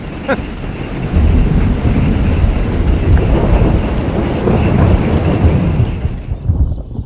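Thunderstorm at a campground in Limoges near Ottawa: heavy rain pours steadily under deep rolling thunder, loud and close, and the sound drops away abruptly just before the end.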